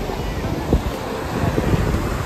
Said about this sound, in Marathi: गणपतीपुळेचा समुद्र किनारा, वॉटर स्पोर्ट पण चालू आहे.